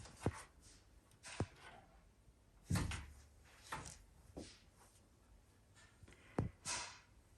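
A door being shut and blocked indoors, giving several faint knocks and thumps spread irregularly over a few seconds, with soft shuffling between them.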